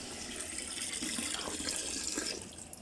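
Tap water runs steadily into a sink as leafy vegetables such as spinach are rinsed to wash off sand, a continuous soft splashing stream with no voices.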